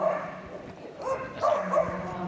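A border collie yips and whimpers in short high bursts during a Crufts agility run. The calls sound somewhat distant over crowd noise and talk from the arena.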